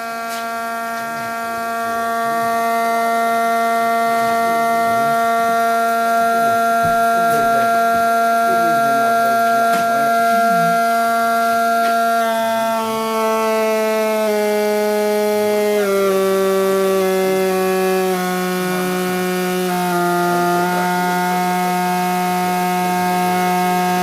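A high-voltage plasma generator running with corona discharge gives a loud, steady electrical whine rich in buzzing harmonics that step down in pitch partway through, sustained and close with no speech.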